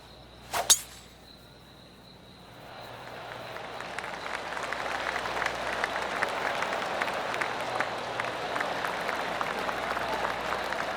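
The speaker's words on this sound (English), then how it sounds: "I can hear the golf claps around the course" A sharp thwack opens, then after a pause soft golf crowd applause in PGA Tour 2K25 rises and holds, a gentle distant patter of many clapping hands.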